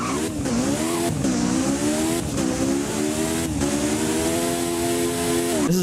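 In the Driving Empire game, a 1988 Lotus Esprit Turbo engine revs and accelerates through several rising gear pulls with brief shifts between them, loud and close, with faint tire squeal and no talking.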